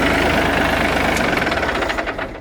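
Ford 8N tractor engine idling close by, a loud fast knocking putter that drops in pitch and loosens into slower, uneven thumps as it winds down, with no talk.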